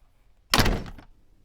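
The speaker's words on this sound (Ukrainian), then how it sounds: "Він зачинив двері за ними" A door shut in an old house, heard as one close, heavy thunk with a brief rattling tail, then quiet, with no voices.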